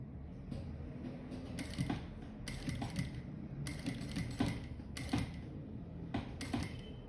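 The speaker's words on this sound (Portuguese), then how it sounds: "E agora eu abaixo e sigo com a minha costura." Domestic sewing machine stitching a thermal bag with EVA foam lining, heard as repeated short bursts of mechanical whirring and creaking, stopping and starting in bursts, close and moderately quiet with no talking.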